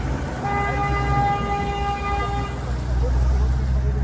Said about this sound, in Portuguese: Para de buzinar, animal.